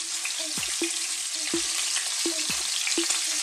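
Cabbage pieces tossed back into a hot frying pan with pan-fried scallops, a steady loud sizzle with a few sharp scraping stirs of the pan, no voices.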